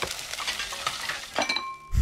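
Food sizzling and frying on a stove in the horror game Resident Evil Village, a steady crackling hiss with faint utensil clinks, heard alone with no talking.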